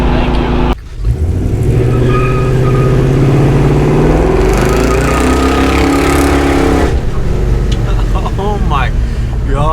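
Someone's car, a work-in-progress build, roars loud and close as the engine revs and drives off, with a brief dip early on, then a sustained rising pull and later a fading pass; voices talk over it.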